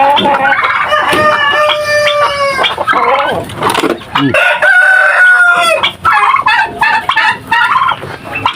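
Breeder chickens cluck and squawk loudly and close by, with repeated crowing calls and dense overlapping fowl noise.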